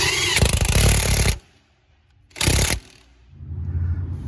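A ratchet wrench turning an 18 mm bolt on the suspension of a 2007 Dodge Charger R/T, with two loud, close bursts of rapid clicking separated by a pause, then a quieter rattle.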